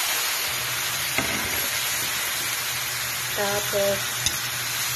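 Chicken sizzles in a pan with cooked tomatoes, a steady bright frying hiss with a couple of small clinks and brief tonal blips, while a person speaks briefly over it.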